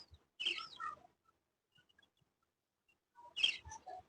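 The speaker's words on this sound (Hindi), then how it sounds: "और ये हमारी चिड़िया" A small bird perched on a clay pot gives two brief bursts of chirping a few seconds apart, close and clear against near silence, with a tiny faint tick or two in the gap.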